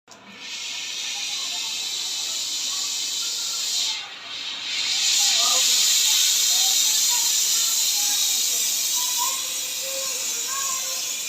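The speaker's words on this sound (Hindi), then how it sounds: "ये ऑक्सीजन से शोला तेज़ कर रहे हैं।" An LPG and oxygen gas welding torch burns with a loud, continuous hiss that briefly dips as the oxygen is opened, then roars stronger and steadier, with faint background voices.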